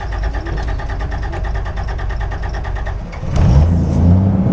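A 1985 Toyota FJ60 Land Cruiser engine cranks on a warm start with a rapid, even chugging for a few seconds, then catches and fires up into a louder, rougher idle.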